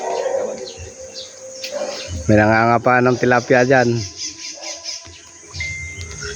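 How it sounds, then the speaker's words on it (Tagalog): Birds call in a tree-filled outdoor spot, with a burst of several squawking calls in the middle, heard under someone talking nearby. "Marami kasing ibon dito, mapuno."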